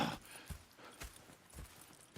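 Horse hooves clip-clop in Red Dead Redemption 2, a handful of spaced, moderately close hoof thuds falling in an uneven walking rhythm with no talk over them.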